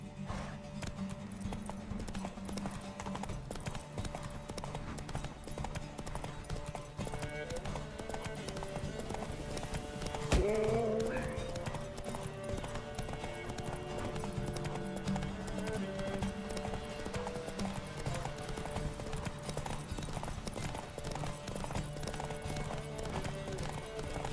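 A horse gallops in The Witcher 3, with continuous rhythmic hoofbeats close by and a brief louder moment midway.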